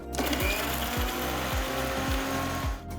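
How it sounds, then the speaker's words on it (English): A mixer grinder whirs steadily as it grinds ginger, green chilies and curry leaves, its motor droning loud and close with a regular pulsing churn from the jar. "So first I'm going to grind these ingredients together."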